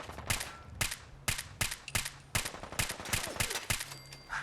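Rapid automatic gunfire from the video game Fallout 4, fired in loud, close bursts of sharp cracks with brief gaps between volleys.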